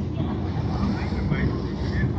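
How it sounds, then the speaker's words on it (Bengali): Boats pass along a Venice canal on a summer evening, a steady low engine and water rumble with strong wind buffeting the microphone, a voice talking faintly underneath. "এই যে কত বোট চলে যাচ্ছে"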